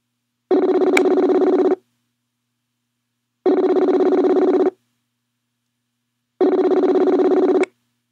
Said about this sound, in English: Oh, it's ringing. It's ringing.